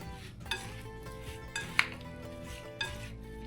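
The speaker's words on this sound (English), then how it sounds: "Now let's mix all of these things." Sliced vegetables being tossed with oil in a dish, with soft clinks and knocks of a utensil against the bowl at a few points over a steady low kitchen background.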